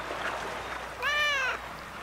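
A cat gives a single clear, close meow lasting about half a second, heard over low background ambience on a boat.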